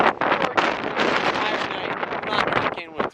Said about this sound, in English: It's so windy. It's crazy.